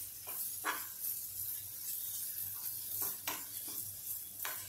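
Gram flour (besan) roasts in oil in a pan, a low soft sizzle under repeated scraping strokes of a spoon against the pan.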